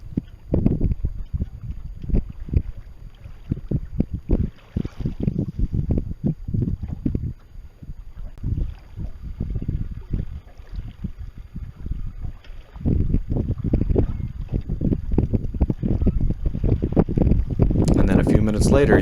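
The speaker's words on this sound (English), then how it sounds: "you can hear the winds starting to build again in the new direction" Wind building again in the Colorado mountains, gusty rushing and buffeting in waves with a brief lull in the middle, close and fairly loud against the microphone, with someone talking over it at times.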